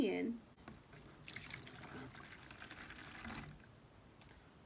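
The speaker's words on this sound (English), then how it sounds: "So now we're gonna pour 1 cup of water in." One cup of water being poured into a bowl, a soft trickling splash lasting a few seconds, quiet and close, followed by a faint room hush.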